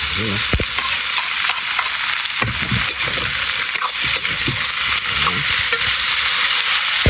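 Ox tripe and hotdog sauté loudly in a pan, giving a constant close sizzle with bursts of crackling and stirring scrapes throughout.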